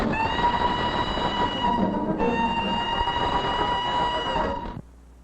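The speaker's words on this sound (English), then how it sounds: "This Lafayette was the first of the American long-boilered locomotives." An early American long-boilered steam locomotive, the Lafayette, runs steadily on rails with a constant rumble and a sustained whistle-like tone that shifts pitch once midway, then stops abruptly.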